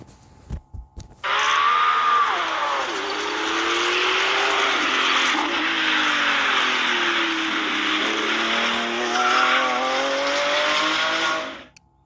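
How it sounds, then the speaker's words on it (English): A Lamborghini Revuelto engine drones loudly and steadily, its pitch dipping and climbing with the throttle, with tire squeal mixed in before the sound cuts off sharply. A few soft thumps come just before it starts. "That's a Revuelto. That's this Lamborghini right here."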